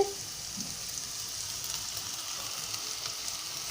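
Curry leaves hiss and sizzle steadily in hot oil for a mutton curry, a close, even frying crackle with no talk.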